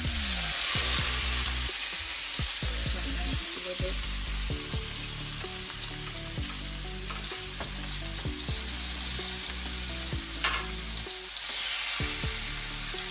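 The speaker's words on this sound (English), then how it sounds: "Now pop those babies in there. Y'all heard that little sizzle?" Loud, continuous sizzling of steaks frying in a hot oiled pan, with crackling pops and spatters throughout, close up and with no talking.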